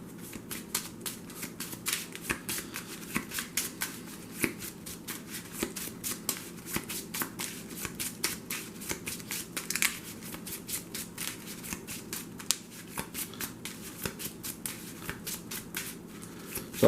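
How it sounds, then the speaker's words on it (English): A deck of cards is shuffled during a solo game of Thunderstone Quest, producing repeated crisp riffling bursts and taps close up, in an irregular rhythm over a quiet room background with no talking. "I'm going to shuffle here real quick."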